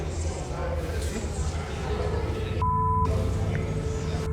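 An electronic device beeps once, a clean steady tone of about half a second, amid the low hum and chatter of a busy room at an esports event. People talk around it.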